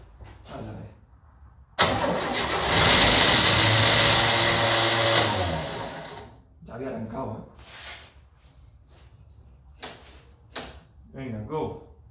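A 1964 Chevrolet Impala engine being revived cranks and catches, roaring loudly for several seconds before dying away, followed by people talking.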